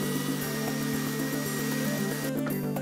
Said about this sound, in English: Drill the holes using the drill bit they provide with a little stop collar there.